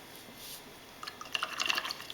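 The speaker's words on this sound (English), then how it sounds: "Rinse out my paintbrush." A paintbrush is rinsed in a small container of water, giving soft close splashes and trickling drips that build over the second half after a quiet start.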